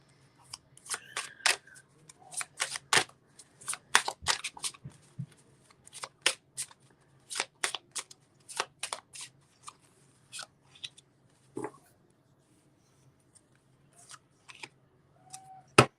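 Cards shuffled for a psychic reading: a run of crisp riffling bursts and snaps, close and fairly loud, coming in quick irregular clusters with short pauses between them and a low hum underneath.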